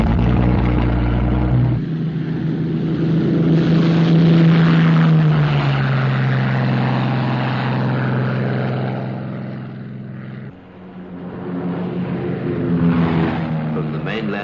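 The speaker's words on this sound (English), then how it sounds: "Lincoln bombers of the Royal Australian Air Force take off to reinforce the security patrol above and beyond the Montebellos" Royal Australian Air Force Lincoln bombers taking off, a loud sustained propeller engine roar that swells, holds, dips briefly, then rises again, with a narrator speaking over it.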